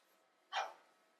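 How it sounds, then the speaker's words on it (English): One short dog bark rings out at a moderate distance, a single sharp burst over a quiet indoor background. "there's my dogs"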